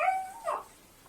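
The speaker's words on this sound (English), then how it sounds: "that was my dog, Chewy." A dog whimpers in a few short high whines, starting a little louder and trailing off into a faint last whine, quiet and alone.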